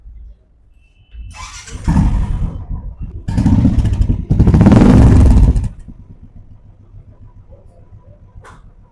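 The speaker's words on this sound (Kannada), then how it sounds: "ಗಾಡಿ ಸ್ಟಾರ್ಟ್ ಮಾಡಿ ತೋರಿಸ್ತೀನಿ, ನೋಡ್ಕೊಳ್ಳಿ ಸರ್." A used 2019 motorcycle engine cranks and catches, with short bursts of starter clatter followed by a loud rev, then settling into a steady idle rumble nearby with no talking.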